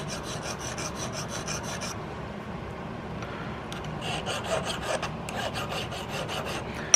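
Hand file cutting a bevel on the end of a gun nose cap, heard as rapid, even rasping strokes in two close, steady runs separated by a brief pause.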